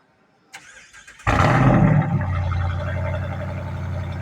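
A brief starter whir, then a Jeep Wrangler Rubicon's 392 V8 roars to life with a loud rev before settling into a deep, rumbling idle, close by.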